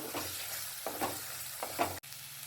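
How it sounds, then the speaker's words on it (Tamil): Ground coriander, turmeric and cumin masala sautés in oil for a fish curry, a soft low sizzle broken by a few spoon strokes through the pan, fairly quiet. "மல்லியும் மஞ்சள் மஞ்சள் ஜீரகம் எல்லாம் சேர்த்து திரிச்சது தான் அதையும் எண்ணெயிலே போட்டு நல்லா வதக்கிடணும்"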